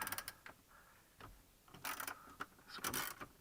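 A ratchet with a 10mm socket clicks in short, quiet bursts as it loosens bolts on a 2017-2018 Mazda CX-5, with sharp metallic ratcheting strokes separated by brief pauses.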